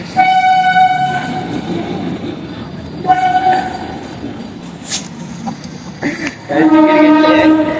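A suburban train pulling into a busy station, with its horn sounding in several long blasts over a rumbling roar of wheels and cars, loud and close, with faint crowd noise around.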